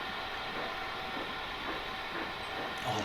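Train sound effect from the Transport Fever 2 simulation game, a faint, steady rolling rumble and hiss of rail cars with a soft clickety-clack, heard alone.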